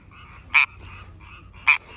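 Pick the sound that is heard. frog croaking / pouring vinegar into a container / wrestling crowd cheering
frog croaking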